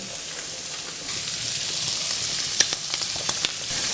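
Shrimp sizzling in a hot pan, a steady soft hiss of frying with a few sharp pops and crackles, close and fairly quiet, with no one talking.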